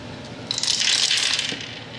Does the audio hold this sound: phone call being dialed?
no